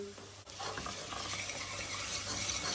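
Dried mint and tomato paste fry in a little oil, giving a faint, continuous sizzle with soft stirring scrapes and a brief dip near the start.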